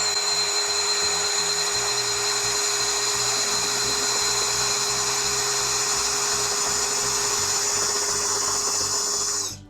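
A Ridgid R87012 subcompact cordless drill/driver spins steadily at its lowest speed setting, giving a loud, even motor whine that holds for nearly ten seconds before winding down at the end.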